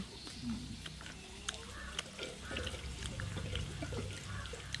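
Water runs and splashes near a new low-cost washing machine at home, a steady wash with scattered drips and knocks while someone talks over it.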